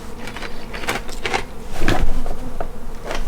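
A dense, steady buzzing of a honey bee swarm at a front door, loud and close, swelling slightly louder partway through with no voices.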